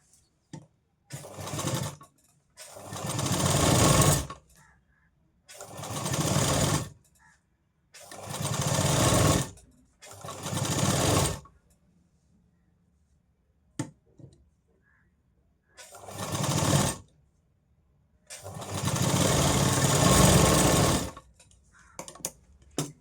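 A sewing machine stitches the cup seam of a katori blouse in repeated bursts of rapid whirring, separated by short silent pauses, close and fairly loud with no speech.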